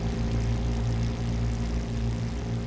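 A Bell P-39 Airacobra's 1,200-horsepower Allison V-1710 liquid-cooled V12 in Flight Simulator X, a loud steady droning hum with a propeller throb.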